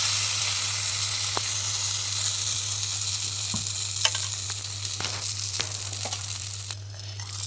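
Fasting-style appe fry in hot oil in an appe pan, giving a steady, close sizzle and hiss with occasional sharper pops and crackles, with no talking.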